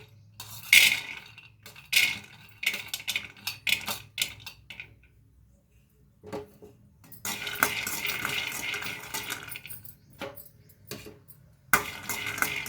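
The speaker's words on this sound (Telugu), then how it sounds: "ముందుగా అయితే మనము వేరుశనగ గుండ్లు అనేవి ఫ్రై చేసేసుకోవాలి" Peanuts frying in a pan for stuffed brinjal curry, with a steady sizzle under repeated clinks and scrapes of a spoon stirring against the metal, coming in close bursts with short pauses.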